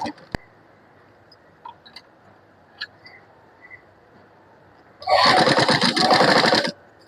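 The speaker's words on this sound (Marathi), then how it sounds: "मी हे गळ्याची शिलाई करते." A sewing machine stitches the neckline of a child's kurti in one loud close burst of rapid whirring lasting under two seconds, after quiet handling clicks and small taps.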